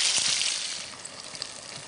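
Beef browning in oil in a pot for a one-pot dish, a steady loud sizzle and hiss from close by that continues evenly throughout, with faint pops and no talking.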